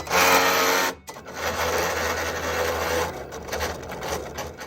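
A Cricut machine cutting patterned vinyl gives a loud whirring burst, a brief pause, then a steady mechanical hum and rattle as the blade carriage moves back and forth.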